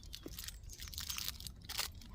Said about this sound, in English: This is a crunchy double chocolate.